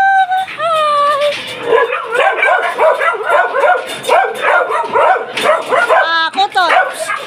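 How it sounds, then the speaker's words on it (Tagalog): A dog yips and whimpers repeatedly with short excited barks, close by, while people talk over it. "huwag kayo maingay kasi may aso"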